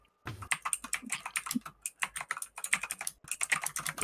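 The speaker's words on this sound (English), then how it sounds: "That was the sound of her like clicking away at her phone," Rapid clicking of keys being tapped on a phone set to make mechanical keyboard sounds, an uneven run of close, crisp taps after a brief quiet start, with a short pause near the middle.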